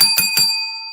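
A bicycle-style bell on a fishing league livestream rings twice in quick succession, bright and close, then its metallic tone lingers and fades on its own.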